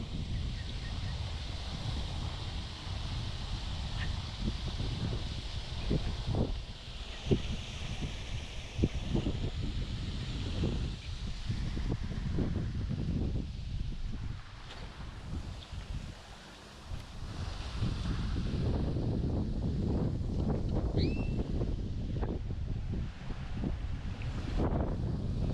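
Steady wind blows across an outdoor pond during bass fishing, a continuous rushing, buffeting roar against the microphone with rustling gusts that dip briefly mid-way, with no talking.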